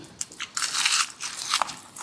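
Someone bites and chews a large tray of Thai pickled seafood, including shellfish, with repeated crunchy, wet crackling bites up close and no talk.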